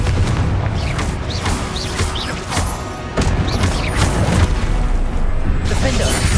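Punchy explosive blasts from the Confringo spell in Hogwarts Legacy, several loud booms and crashes in quick succession over game noise, while a voice calls out spell names.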